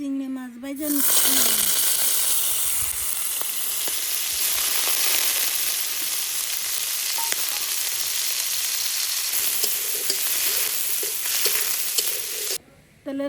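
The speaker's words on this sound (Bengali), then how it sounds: "চিংড়ি মাছ ভাজা নিচ্ছি।" Prawns fry in hot oil in a home kitchen during preparation of a banana-stem and vegetable dish, giving a loud, steady sizzle that runs almost the whole time and cuts off briefly near the end, with faint voices in the background.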